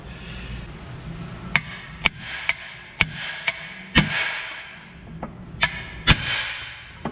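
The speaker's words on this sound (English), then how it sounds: "again we got a tap here to loosen it" Several sharp metallic hammer taps loosening the wheel spindle during a front wheel bearing and lower control arm job on a Kia Hyundai Elantra, spaced irregularly over a low garage hum, close and moderately loud.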